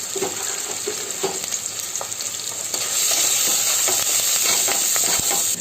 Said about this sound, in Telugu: అల్లం వెల్లుల్లిపాయ పేస్టు, గరం మసాలా, ధనియాల పొడి వేసి వేయించుకోవాలి.